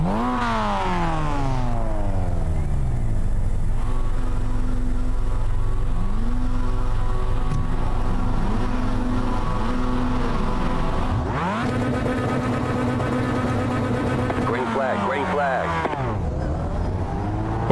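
Mazda MX-5 race cars at the start at Bathurst in iRacing, a field of engines idling then revving hard and climbing through gears together, loud and continuous with overlapping pitch sweeps and shifts.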